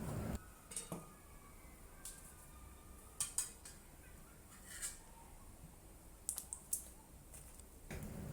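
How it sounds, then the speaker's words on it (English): A knife cuts an old, wrinkled, crack-skinned cucumber in half lengthwise on a board, giving a few sharp, separate cutting clicks and taps near the listener against quiet background. "Slice the old cucumber in half lengthwise."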